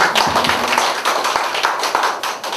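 Audience applause at a public-private workshop on social economy funding in Gwangju, a steady burst of clapping from a hall crowd lasting a couple of seconds with no talk over it.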